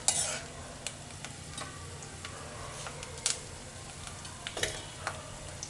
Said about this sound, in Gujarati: સરસ એને તળી લઈશું બ્રાઉન કલરના।